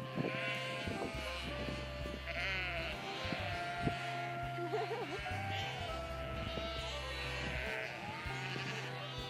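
Several sheep bleat repeatedly over a low steady hum, their wavering calls overlapping at close to moderate distance.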